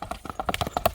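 A horse walks briskly on hard ground, its hooves clip-clopping in a quick, even sequence of about a dozen close, crisp knocks.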